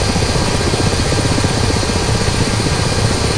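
A Ka-50 helicopter in a flight sim drones loudly and continuously, its rotor thudding in a fast, even pulse over a steady engine whine, close and unbroken.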